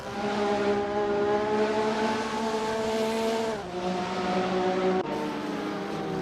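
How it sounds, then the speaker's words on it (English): Racing car engines roar continuously in a video game endurance race at a 1967 Kyalami circuit, with a loud, sustained whine that dips briefly twice as the cars shift gears, and no voices over it. "The roaring engines are echoing Dennis Schramm's battle cry."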